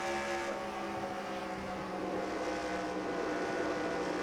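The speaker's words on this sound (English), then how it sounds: "You can hear me on the throttle really lifting, getting in the corners." A race car engine drones in NASCAR Racing 2003 as the driver lifts off the throttle into the corners at Chicagoland, a steady, fairly quiet mechanical hum running without a break.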